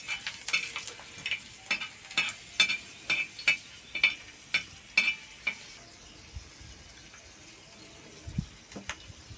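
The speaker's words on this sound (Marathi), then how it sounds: "आता यामध्ये हे सर्व मिश्रण एकत्र टाकायचं आहे आणि ते हे चांगलं तळून घ्यायचं आहे" Spice mixture stirred into garlic frying in a pan for a Marathi potato chutney, a steady soft sizzle under a series of sharp spatula scrapes and knocks that come in an even rhythm, then thin out and leave the sizzle nearly alone.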